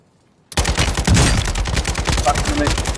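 Rapid video game gunfire aimed at a player, starting abruptly after a brief silence and continuing as dense, loud bursts of shots for the rest of the clip.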